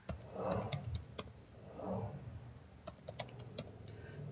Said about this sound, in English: So in this case, I'll be typing my password.